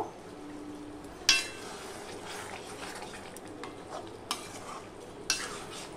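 Chicken cooking in a small amount of oil in a pan, a low steady sizzle with occasional sharp clinks of a utensil against the pan, quiet and close with no talking.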